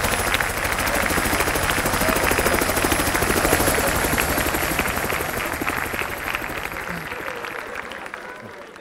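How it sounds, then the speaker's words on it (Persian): A helicopter rotor sound effect chops rapidly and loudly on a comedy show stage, a steady dense whir that fades slightly toward the end. "الان پرهای هلیکوپتر میچرخه بادش میخوره به ما"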